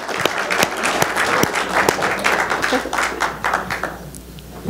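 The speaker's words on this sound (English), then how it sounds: "Everyone, please give a warm applause and help me welcome Rebecca Chandler with Bausch & Lomb." An audience at an optometry seminar in Las Vegas claps warmly to welcome a speaker, a dense, fairly loud round of many hands with individual sharp claps standing out, fading slightly near the end.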